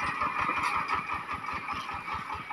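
A tractor engine runs steadily outdoors on a village road in Thailand, a mid-pitched idling chug with an even, rapid pulse, moderately close, under a layer of background noise.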